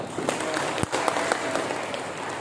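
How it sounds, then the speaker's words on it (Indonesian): Audience applause at an anti-corruption outreach session in Jayapura, a steady patter of clapping from a gathered crowd of officials and residents, moderately loud and continuous for a few seconds with a couple of sharper claps standing out. "Tepuk tangan kita semuanya."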